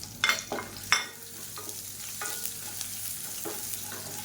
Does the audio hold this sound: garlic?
yes